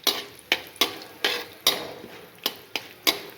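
Whole spices for a tadka fry in hot ghee while a spoon stirs the pan, giving about eight sharp metallic scrapes at a regular pace over a soft background sizzle, close and with no talking.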